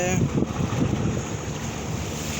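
Passenger launch MV Doel Pakhi 10 travelling on the wide Meghna river, bound for Dhaka, with a steady low engine rumble blended with wind buffeting and water wash, continuous and fairly close.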